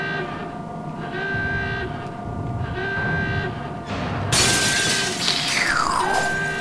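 Glass shatters loudly in the frozen ship of the video game Cryostasis, a sudden bright crash with falling shards over a steady mechanical game hum.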